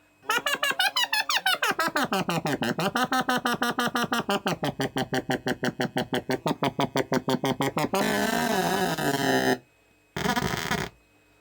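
Harsh, warbling analog synth tones from a Korg MS-20 Mini routed with a Doepfer Dark Energy sweep and pulse rapidly, then turn into a steady buzzing drone that cuts out and briefly returns.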